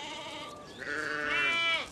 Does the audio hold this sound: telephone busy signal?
no